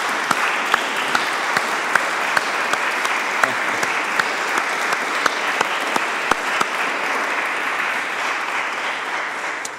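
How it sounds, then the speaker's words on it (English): Congregation applause for the choir at a choral evensong service, sustained even clapping from a large crowd filling a reverberant space, with a few sharper individual claps standing out throughout. "I think we should give you a round of applause."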